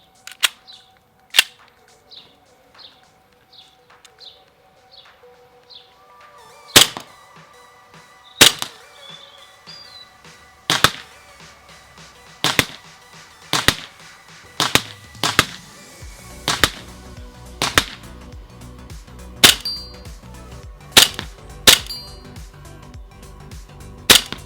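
Gas-powered air gun firing copper 4.5mm BBs at targets on a home range, a string of sharp snapping shots, sparse at first then coming in rapid irregular bursts, some followed by faint metallic pings from hits.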